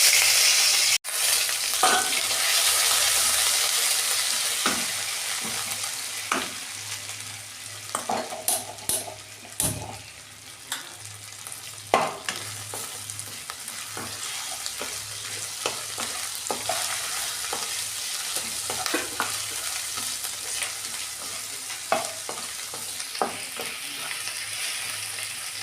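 Ginger fries in oil with bay leaf, cumin, cloves and cinnamon for a vegetarian chana dal, a continuous close sizzle with frequent sharp spatula scrapes and taps on the pan over about twenty-five seconds, no talking.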